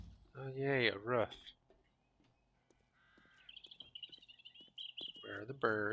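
Birds call in the video game 7 Days to Die: two loud crow-like caws up front, then a fainter run of quick, high chirps, and a final burst of cawing.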